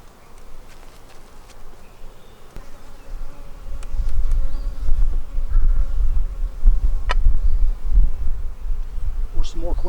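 Honeybees hum around an open hive during an inspection, a dense droning buzz that swells louder halfway through and stays close and steady.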